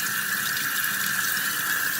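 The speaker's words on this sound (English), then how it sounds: "And basically, I just rinse it till it runs clear." Tap water runs steadily into a sink, rinsing bags of aquarium charcoal for a canister filter during setup of a 75-gallon tank; a continuous hissing flow with no talk.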